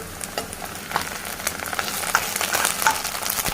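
Ginger garlic paste sizzling in hot oil for a coriander chicken fry, a steady crackling fry with scattered pops and the scrape of stirring, close and continuous.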